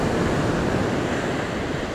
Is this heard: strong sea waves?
yes